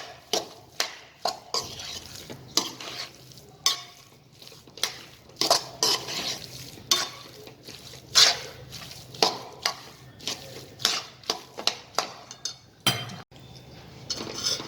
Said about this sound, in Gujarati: હવે ગેસ બંધ કરી દઈએ અને હલાવી લઈએ.